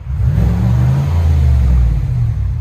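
A Chevy/GMC 6.2L V8 fitted with a MagnaFlow muffler revs in a short, deep, steady blip, close and loud, with no talk over it.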